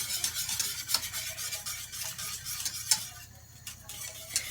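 Ingredients for crème pâtissière being mixed in a bowl, soft scraping and stirring strokes with light clinks of a utensil, quiet and close, in an irregular rhythm without talk.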